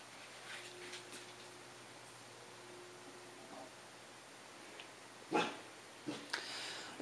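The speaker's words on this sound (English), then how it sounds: "Gerta McGird, I don't know what you're barking at, honey." A dog barks a few times at a distance, short sharp yaps breaking a quiet background.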